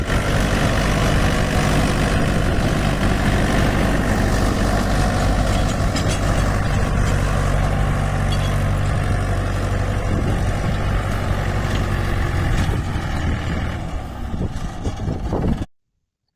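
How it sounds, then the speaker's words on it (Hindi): A farm tractor engine runs continuously with a loud, close, low rumbling drone that stays steady for about fifteen seconds before abruptly cutting to silence. "ये देखो चल रहा है चाचा जी का ट्रैक्टर बढ़िया से"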